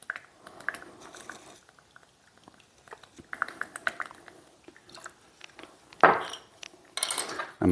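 A whisk beats apple cider mop sauce with Tabasco and salt in a bowl, giving quick, close clinking and tapping strokes in short bursts, followed by louder, brisker whisking near the end.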